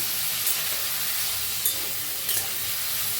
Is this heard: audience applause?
no